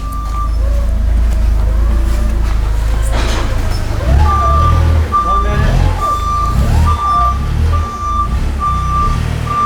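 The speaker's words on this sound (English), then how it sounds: "Someone's driving a forklift on the other side" Forklift reversing beeper in a warehouse, a steady run of evenly spaced loud beeps over the low rumble of the vehicle and indoor background noise, with people's voices heard alongside.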